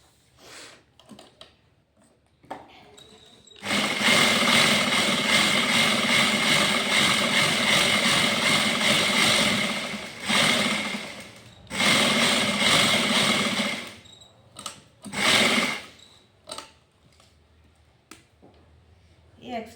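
A sewing machine stitching the cap of a coat runs in a long, steady, loud burst. Shorter runs and a few quick stops follow, with light handling noises in the pauses.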